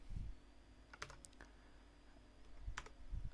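Quiet, scattered keystrokes on a computer keyboard, a few soft clicks and small clusters of taps over a faint background hum.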